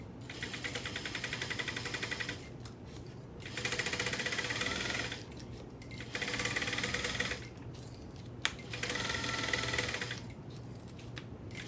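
A sewing machine runs in four bursts of steady rapid stitching, back stitching with short pauses between runs, close and clear with no voices.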